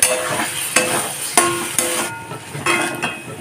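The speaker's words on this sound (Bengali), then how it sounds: "দিয়ে দিয়েছি আদা রসুনের পেস্ট, স্বাদ মতো নুন, চিনি, হলুদ গুঁড়ো আর লঙ্কার গুঁড়ো। এখন কষিয়ে নেব।" Onion, tomato and chili sizzle in a pan with ginger garlic paste, salt, sugar, turmeric and chili powder as a spatula scrapes through them, giving several sharp scraping strokes over a steady frying hiss.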